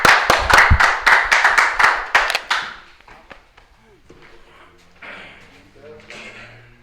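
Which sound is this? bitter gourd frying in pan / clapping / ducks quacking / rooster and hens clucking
clapping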